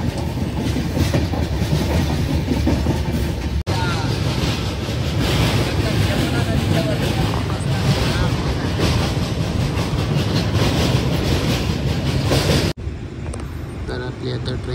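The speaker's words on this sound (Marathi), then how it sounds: "तर आपली आता ट्रेन पोचते इगतपुरीला।" A passenger train from Mumbai to Chhatrapati Sambhajinagar runs toward Igatpuri at night, a loud, steady clattering rattle of wheels on rails heard from inside the carriage, with faint voices mixed in.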